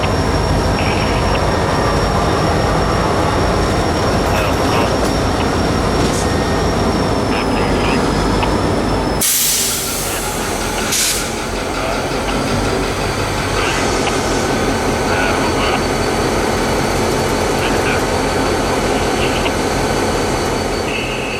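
A freight train switching and spotting cars at a customer's doors, with a steady low rumble and rolling rail noise throughout, a loud burst of hiss or squeal midway, and faint tonal whines overhead.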